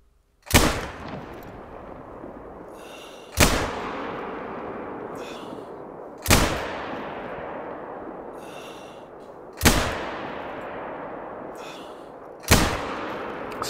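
Five loud .243 rifle shots in theHunter Call of the Wild, each a sharp crack with a long fading tail, spaced evenly about three seconds apart at a shooting range, no talking.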